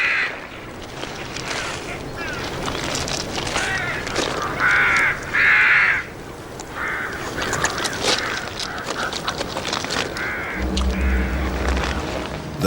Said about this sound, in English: The hooded crows are hungry too, but they'll have to wait their turn.